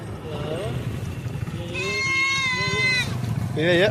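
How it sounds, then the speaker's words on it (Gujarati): Goats bleating outdoors in a few wavering calls, with a longer, stronger bleat in the middle and more near the end, over steady road and engine rumble, with people talking nearby. "બેટા બકરા આવી ગયા છે"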